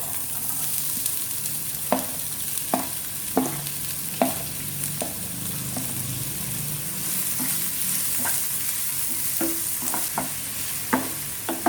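Chopped onions sizzle in hot oil with cumin seeds in a pan while cooking chicken keema masala, with a steady frying hiss broken by repeated sharp scrapes and taps of a spoon stirring, close and without talk.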